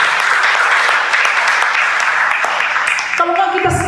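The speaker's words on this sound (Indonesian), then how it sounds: "Boleh tepuk tangan paling meriah ya." A congregation at a Sunday worship service in a Pentecostal church in Bantaeng gives loud, dense applause; the steady roar of clapping fills the room and continues to the end, where a brief musical tone enters.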